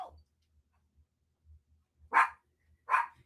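A dog barks twice in quick succession near the end, sharp and fairly close, after a brief yelp at the start and soft low thumps in between.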